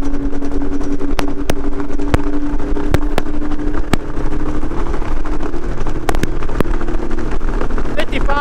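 A 2011 Cobalt 302 open bow rider motorboat runs at full throttle on slightly choppy water, its engine a loud, steady, unbroken roar with wind buffeting throughout.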